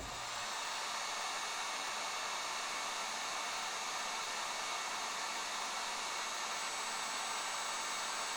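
A heat gun blows hot air steadily at an egg, a loud, continuous close-up roaring hiss that holds without pause for the whole stretch, with no voices.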